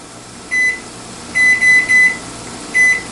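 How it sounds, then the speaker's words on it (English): A kitchen timer being set for a ten-minute simmer gives a short electronic beep, then three quick beeps in a row and one more, clear and close over quiet room hum. "I'm going to start a 10-minute timer to let it simmer."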